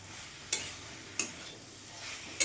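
Boiled soybean chunks sautéed with spices in a pan, a soft steady sizzle broken by three sharp scraping stirs of a spatula, close and fairly quiet with no talking.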